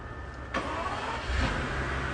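A Mercedes-Benz Maybach engine cranks and catches after a starter replacement, a sudden start settling into a steady idle with a brief rev, close and loud with no talking.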